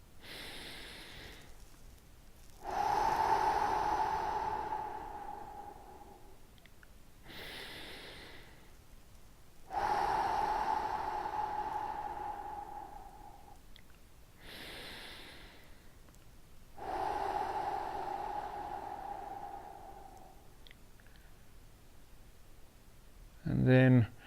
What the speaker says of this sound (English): we're going to start by, as usual, taking 3 big deep breaths.